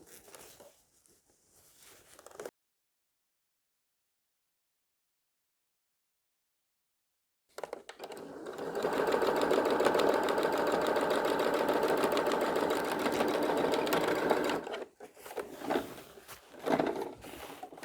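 A sewing machine stitching along the quilted lines of a duvet storage bag, running as a steady close mechanical hum for several seconds after a silent gap, with some handling sounds around it.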